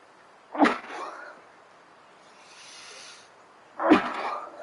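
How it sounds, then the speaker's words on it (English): Two loud, close sneezes from a character in a Way of the Hunter bear-hunting scene, spaced about three seconds apart, with faint rustling between. "attack of the sneezes"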